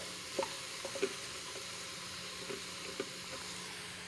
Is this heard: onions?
yes